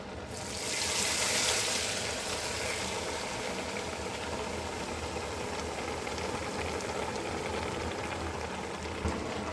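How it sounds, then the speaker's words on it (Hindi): Carrot halwa being cooked with added ghee gives a steady, dense sizzle and bubbling that swells briefly near the start and then holds level, with no talking. "तो अब हम इसमें घी शामिल करेंगे।"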